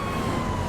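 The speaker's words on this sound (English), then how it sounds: "So I got my sirens on" A police car siren in the GTA 5 video game wails steadily and loudly, a brief continuous tone over low engine rumble with no talk.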